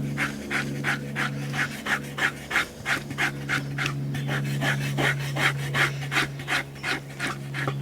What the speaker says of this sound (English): you're scraping and you're slicing.